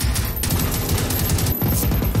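Sustained rapid gunfire with armor-piercing ammunition in the open-world shooter Generation Zero, a dense, loud, continuous burst of automatic shots that runs unbroken through the clip with no voices.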